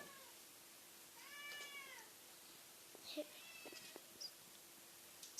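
A cat meows indoors while a meal is underway, one drawn-out, fairly close wavering call, then a few soft clicks and small knocks in an otherwise quiet room.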